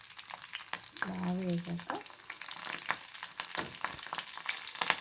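Curry leaves frying in a hot pan, crackling and sizzling in sharp bursts with stirring, while someone speaks briefly over the cooking.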